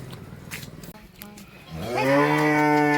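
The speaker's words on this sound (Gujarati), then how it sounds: "જો ગાય જો અંદર પાણી પીવા દો" A cow gives one long, loud moo in a farm field, rising out of quieter background noise and holding steady to the end.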